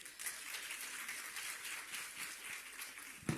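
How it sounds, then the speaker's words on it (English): Audience giving a round of applause at an economic assembly session, a dense, even wash of many hands clapping at moderate distance, continuing throughout without speech. "I think that deserves a round of applause."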